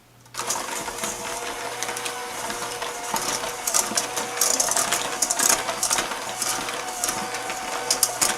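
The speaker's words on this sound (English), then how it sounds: "And now let's put on our electric mixer. We're going to beat this for 2 minutes until it's light and fluffy." An electric mixer beats muffin batter for strawberry chocolate chip muffins, giving a steady close mechanical whir with rattling and clattering bursts throughout and no talking.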